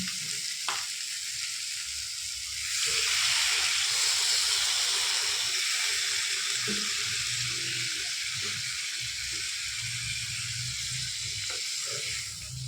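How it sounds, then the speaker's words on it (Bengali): Water is poured into a hot cooking pot of fish roe curry, setting off a loud rush of hissing sizzle that settles into a steady simmering fizz, close by with no voices. "এবার আমি এটাকে জল দিয়ে দেবো।"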